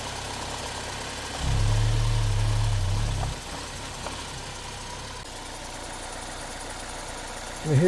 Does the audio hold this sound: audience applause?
no